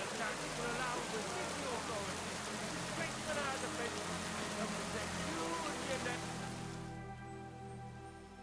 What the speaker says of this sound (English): But it's raining. It's clouded over, so this might not work.